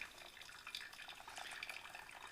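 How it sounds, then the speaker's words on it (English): Hot water poured from a kettle into a coffee pot with a broken brewer, a faint, steady trickling stream that runs continuously and quietly, with no voices. "I heat up water and just pour it into the coffee pot"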